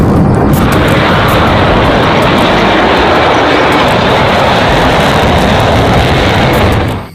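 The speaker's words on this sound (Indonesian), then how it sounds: "Wow, jet tempur." Fighter jet sound effect from a toy: a loud, continuous roaring rush that holds steady for about seven seconds before cutting off abruptly.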